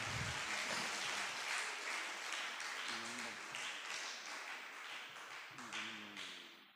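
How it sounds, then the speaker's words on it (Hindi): Dense clapping from schoolgirls in a college hall during an honouring ceremony at a poetry gathering, steady and moderately loud throughout, with a voice briefly audible beneath it. "ज़ोरदार तालियां आनी चाहिए बच्चियों की तरफ से"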